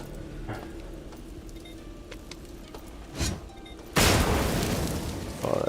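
A frag grenade goes off in System Shock: quiet ambience and a small thump lead into a sudden loud, broad blast about two-thirds of the way through that holds as a roaring burst, with another sharp hit at the very end.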